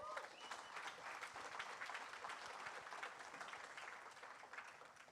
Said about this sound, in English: So also, round of applause to all of you again.